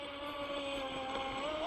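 Volantex Vector SR65 RC racing boat running at full throttle on a 4S battery, a steady high-pitched electric motor whine with water rush, rising slightly at the end, continuous and fairly close.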